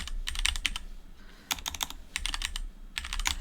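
Computer keyboard keys tapped in quick bursts while an address is entered, brisk clustered clicks with short pauses between runs, close and clear with no talking.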